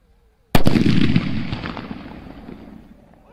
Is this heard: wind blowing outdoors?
no